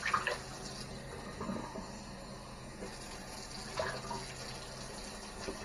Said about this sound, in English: you want to make sure you use lukewarm water, not too hot.